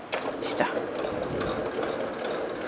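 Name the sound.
sewing machine stitching with longer stitch length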